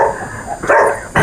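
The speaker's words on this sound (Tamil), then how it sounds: "ஆனால் நான் பேசும்போது குலைக்குது பாரு" A dog barks at an outdoor public speech at Champion Reef in KGF, two short, loud, close bursts of barking over a muffled background.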